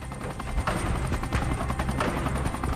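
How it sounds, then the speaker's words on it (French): Two Gazelle military helicopters of a special forces helicopter regiment lift off from an airfield at Mopti-Sévaré, a steady loud rotor thrum and turbine whine with rhythmic blade chop running throughout, no voices. "2 gazelles décollent de Mopti Sévaré"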